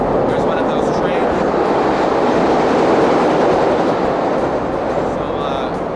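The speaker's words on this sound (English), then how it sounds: "There's one of those trains." A train rumbles steadily past close by, a dense continuous roar with faint rhythmic clatter of wheels throughout.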